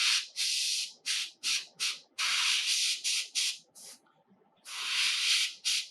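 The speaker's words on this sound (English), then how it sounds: "use the airbrush to help you air dry each layer" Short, close bursts of hissing air from an airbrush dry paint on a Doctor Octopus miniature, coming in an uneven series of puffs of varying length with one longer blast near the end.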